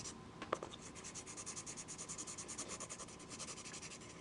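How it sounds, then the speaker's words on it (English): A 2B pencil shades across paper in quick, even back-and-forth strokes, close and quiet, with a soft scratchy rhythm that runs steadily throughout. "that's my 2B pencil. Take care of this part."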